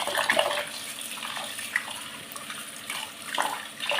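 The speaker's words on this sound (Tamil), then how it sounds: "கொத்தமல்லியை கழுவி வச்சுக்கணும்." Coriander leaves washed under a running tap, with a steady rush of water and splashy bursts as the leaves are moved about, close by.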